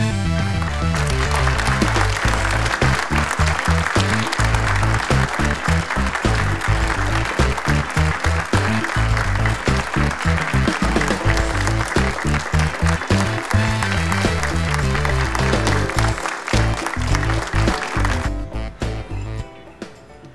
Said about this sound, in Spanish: Recibamos con un fuerte aplauso al nuevo terapeuta del penal